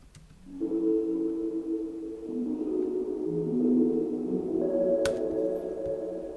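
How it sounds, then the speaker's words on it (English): Layered synth chords swell and sustain with a long, washy, fully wet reverb tail, the harmony shifting a few times, steady and fairly loud with no voices. "Let's drop a supermassive reverb on here."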